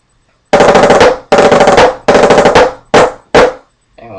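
Snare drum rudiment phrase played loud and close: three sharp seven-stroke rolls in quick bursts, then two separate flam accents, alone with no talk.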